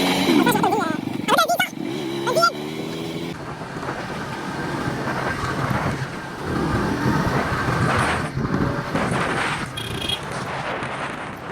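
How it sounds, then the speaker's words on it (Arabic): Tram passing on a street in Alexandria, Egypt, with a rumbling, rattling rail and traffic noise continuing throughout, close and fairly loud, while people talk over it. "نستنى بقى المعلم الترام ده يعدي"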